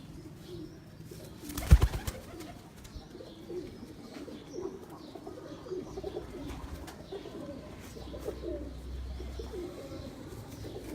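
Pigeons coo on a rooftop loft belonging to pigeon fanciers, a steady murmur of soft, low cooing from several birds throughout, with a brief louder knock early on and no talking.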